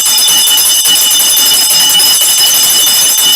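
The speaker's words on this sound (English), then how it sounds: "So let me ring the bell for Grace." A bell rings loud and sustained, a continuous bright metallic ringing with no break for the whole stretch and no talk over it.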